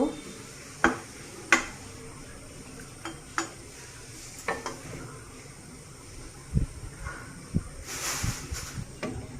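Masala is sautéed in a pan over low heat for a koi fish and tomato dopeyaja, with scattered clanks and scrapes of a spatula over a soft, steady sizzle.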